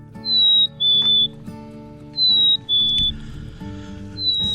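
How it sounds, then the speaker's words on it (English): A black-capped chickadee whistles its clear two-note fee-bee song, a high note sliding to a slightly lower one, repeated twice with a third start at the end, over a faint humming background. "today's Talkin' Birds featured feathered friend, the black-capped chickadee"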